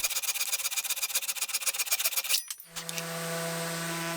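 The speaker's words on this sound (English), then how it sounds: "A quick trim with a couple saws, and it should be usable again." A hand saw rasps back and forth in quick, rhythmic strokes trimming a wooden drawer pull with a glued-in ash block, close and alone, then stops and gives way to a second, smoother steady cut.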